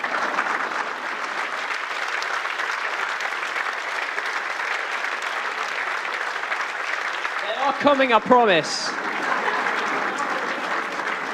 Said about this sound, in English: Keep the applause.